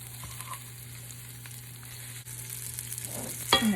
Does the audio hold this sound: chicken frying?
yes